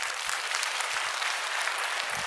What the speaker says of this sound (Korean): 모델들 다시 한번 박수 한번 해주세요.